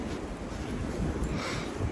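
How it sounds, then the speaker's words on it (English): Wind gusting at a riverside fishing spot buffets a small microphone, giving a steady, close rumbling roar that fills the short stretch without pause. "It's windy out, so hopefully the audio is decent here."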